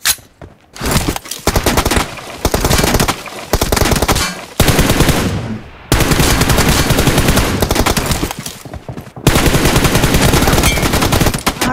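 Automatic gunfire in a team deathmatch video game, loud bursts of rapid shots filling most of the stretch, broken by a few brief pauses between volleys, with no voices.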